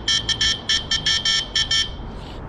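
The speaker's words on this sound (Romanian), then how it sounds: "ia să mai testăm claxonul ăsta odată." Horn on a night-shift Glovo delivery vehicle being tested, sounding as a rapid series of about nine short, loud, shrill beeps over low road rumble, then fading out.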